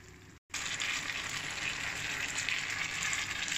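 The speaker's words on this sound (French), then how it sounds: "il ne reste plus qu'à laisser mijoter tout ça gentiment jusqu'à ce que la préparation épaississe" Chicken coconut curry simmers in a pan, a steady dense sizzle and bubbling hiss that continues evenly after a brief cut.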